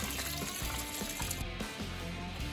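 Coolant from a first-generation Toyota 4Runner radiator splashes and drips continuously in a close, steady watery trickle, with no talking.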